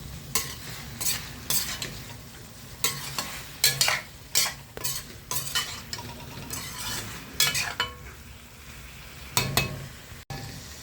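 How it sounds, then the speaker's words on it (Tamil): A spoon scrapes and turns cauliflower pepper fry in a pan, with irregular bursts of stirring over a soft continuous sizzle, close and fairly quiet. "நல்லா சுற்றி கிண்டி விடணும்."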